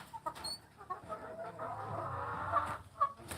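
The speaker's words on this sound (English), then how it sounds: "Come on, chicken, move, please." A farm chicken clucking close by in short, uneven bursts, with soft rustling and background noise filling the gaps and no talking.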